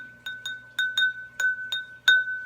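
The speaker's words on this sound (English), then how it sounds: "and by striking it, you will get a note. Now this glass of water has just a little bit of water." Pencil striking a glass holding a little water, seven or so clear ringing clinks with a steady pitch, each decaying briefly before the next tap.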